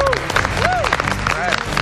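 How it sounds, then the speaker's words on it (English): Applause from an audience at a live show, steady clapping lasting under two seconds, mixed with cheering voices and background noise. "Give yourselves a round of applause."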